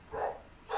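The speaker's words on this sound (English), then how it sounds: "Sorry, my dog's barking." Dog barking indoors at a distance, two brief muffled barks about half a second apart, fairly faint with no talking over them.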